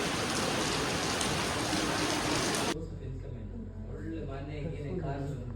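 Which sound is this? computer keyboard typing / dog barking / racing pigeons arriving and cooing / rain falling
rain falling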